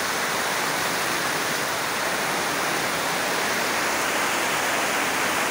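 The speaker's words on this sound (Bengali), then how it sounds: "দেখুন কি হারে ঝড় বৃষ্টি রে বাবরে, দারুণ ঝড় বৃষ্টি।" Heavy rainstorm with strong wind, a dense, loud, unbroken roar of pouring water that stays constant from start to finish with no voices.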